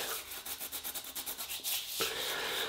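Hands rub shaving cream into a face in a quick, even rhythm of soft, close wet strokes that turn into a steadier smear near the end.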